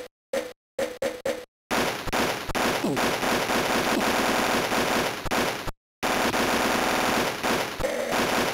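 Rapid auto rifle bursts from the Army Men video game, several short volleys at first, then long sustained rattling fire with a brief pause before it resumes, loud and close.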